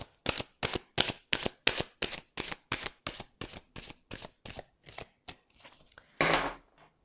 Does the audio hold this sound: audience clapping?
no